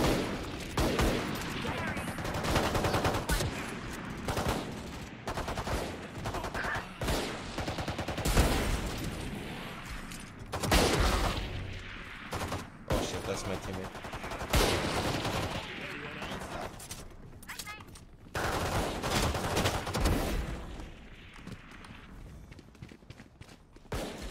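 Rapid gunfire in Valorant, repeated bursts and single shots cracking loudly at irregular intervals, mixed with footsteps and occasional game effects, with a player's voice talking in between.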